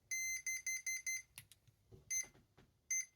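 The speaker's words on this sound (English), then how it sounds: "You can tell that's just 1 beep." A Hobbywing QuicRun WP 1080 G2 brushed ESC gives a single short setting beep after a run of quick identical high-pitched beeps, with faint mechanical noise between them.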